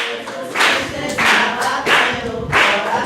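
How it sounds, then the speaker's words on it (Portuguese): A church congregation claps hands in rhythmic bursts, about one every 0.6 seconds, loud and close, with a hum of singing voices carrying underneath. "Bate palmas para Jesus."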